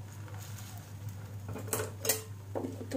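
A spatula spreads egg omelet batter across a pan, giving soft scrapes and a few light metallic clinks over a low steady hum, faint and close.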